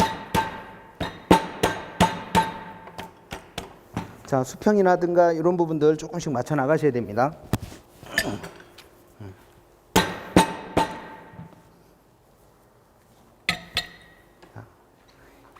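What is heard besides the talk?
rubber mallet tapping steel pipe assembly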